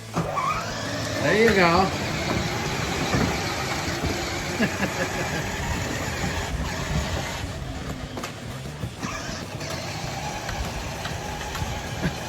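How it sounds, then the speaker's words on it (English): A toy Chevrolet Silverado ride-on truck starts up and runs with a steady electronic engine sound close by, while people talk over it. "turn on your engine. There's a start button you see in there on the dash?"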